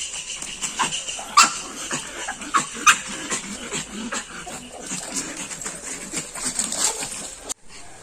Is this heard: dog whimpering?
yes